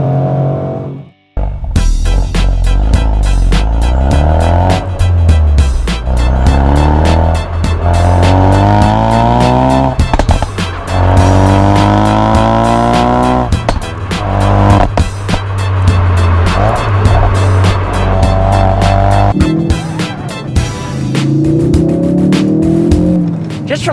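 A Ford Focus RS hot hatch engine revs hard and loud through rapid gear changes while driven hard, rising and falling in pitch with tire noise, no talking.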